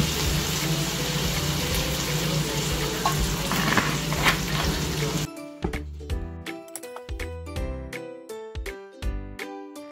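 Mung beans sautéing with cabbage sizzle loudly and steadily in the pan as fish sauce goes in, then the hiss drops away into a string of clinks and knocks of utensils.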